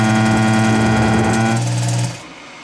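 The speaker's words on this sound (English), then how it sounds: "That sound you hear is that squirrel cage continuing to cool the lamp" A squirrel cage fan cools a projector lamp, running as a steady loud whir with a strong low hum that drops away after about two seconds, leaving only a faint trailing hiss.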